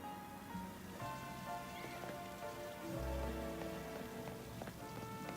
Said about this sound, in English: It's raining. That's rare.